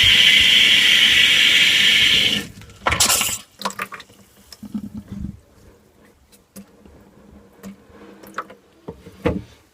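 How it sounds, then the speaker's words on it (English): Tap water running into a kitchen sink to flush the drain line, a steady loud rush for about two seconds, then the flow stops and faint clunks, drips and small handling noises follow. "we'll let that run for a little while and flush the drain line for the kitchen sink"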